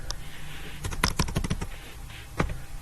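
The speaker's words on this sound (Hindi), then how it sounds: "अब यहाँ पे मैं लिखता हूँ उमर," Keys on a computer keyboard clatter in irregular quick clusters of taps with brief pauses between them, close and clear with no talking.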